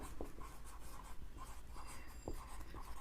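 Quiet pen strokes scratch across paper or a board in short, irregular bursts, faint against a noisy background hiss with no talking.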